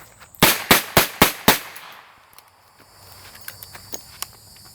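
.38 Special revolver fired five times in a quick, even string of loud sharp cracks, followed by quieter clicks and small metallic handling sounds of a reload.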